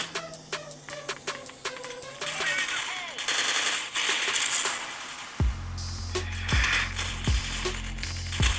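Rapid bursts of automatic gunfire and single shots ring out in the shooter video game Elite Strike, mixed with mechanical clicks and a later stretch of heavier, booming fire, with faint voices underneath.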